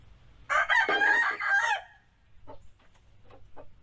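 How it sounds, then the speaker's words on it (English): A rooster crows once nearby, a loud strained call lasting over a second, followed by a few soft clucks against a quiet background. "Rooster's always crowing."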